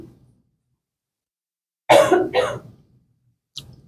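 A single sharp cough bursts out close and clear in an otherwise quiet room, followed by a brief faint throat sound a moment later.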